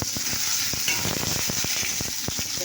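Oil with chili and panch phoron sizzling in a wok, a loud, dense steady crackle close by, punctuated by a quick run of rhythmic clicks from a spatula, with no speech.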